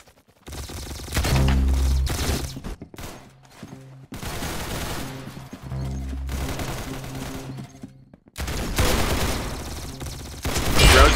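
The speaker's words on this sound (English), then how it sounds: "That's some beautiful shooting right there." Bursts of rapid gunfire in a shooting game, several long loud volleys separated by brief pauses, with a final burst rising at the end; no talk.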